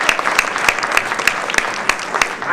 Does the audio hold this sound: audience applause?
yes